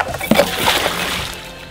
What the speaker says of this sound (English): First, you'll take the ballast weight in the buoy, drop those first.